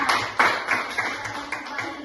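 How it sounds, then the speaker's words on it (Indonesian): A class applauds a student group after their presentation, a short burst of scattered hand claps that fades quickly, with the claps sounding close and fairly loud in a classroom. "Oke, tepuk tangan untuk kelompok kita"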